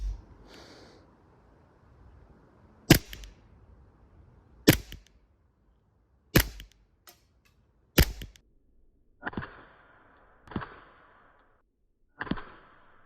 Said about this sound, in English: next up is the Glock 17 firing steel BBs, CO2 powered, just over 300 feet per second